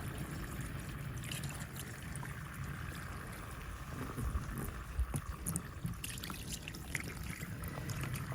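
Water poured from above onto the lid of a winter-sowing seed container outdoors, a steady splashing trickle running for several seconds with faint wind and occasional drips, near and continuous.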